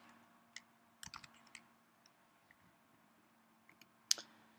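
Light keystrokes on a computer keyboard, several scattered clicks and short bursts across a few seconds with a sharper tap near the end, quiet and close in an otherwise still room.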